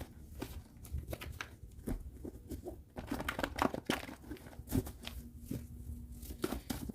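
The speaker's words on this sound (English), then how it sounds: "Let's shuffle these a little bit more." Tarot cards are shuffled by hand, giving soft papery riffles, slaps and rustles in uneven bursts, close and fairly quiet with no talking.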